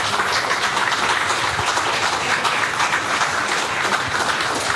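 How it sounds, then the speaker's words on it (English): Loud, steady applause fills a stage event at a business forum's cultural program, a dense crowd clapping continuously without pause throughout. "please welcome them on stage with a loud applause"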